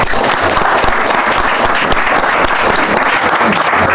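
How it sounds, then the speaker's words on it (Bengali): An audience at a certificate ceremony claps loudly and steadily for the recipients, a dense, continuous wash of applause with no break. "তাদের জন্য আমি সজল এবং আমাদের এখানে সবার পক্ষ থেকে একটা জোরে তালি দিতে চাই"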